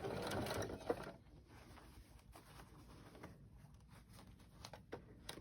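A sewing machine stitches across the bottom of thick Levi denim for a child's backpack, giving a soft, rapid mechanical patter that runs fairly steadily at close range in a quiet room with no speech.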